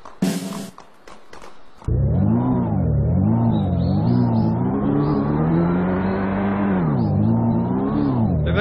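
Electric scooter ridden in a video game, a loud continuous synthetic motor whine that rises and falls in pitch. It follows a few brief clattering thumps at the start.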